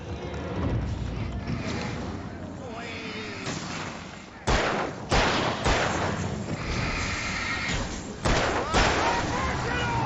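Gunfire in the video game Alan Wake, several sharp, loud shots cutting through a dense, rumbling game soundscape with layered effects and music, and a voice talking over it.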